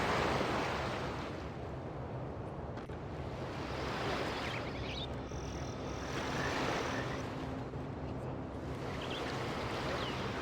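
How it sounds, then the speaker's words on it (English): Ocean waves wash steadily in the video game Populous, a continuous surf roar with gentle swells and no action. "now we just listen to the calming sounds of the waves as they carry us off to sea"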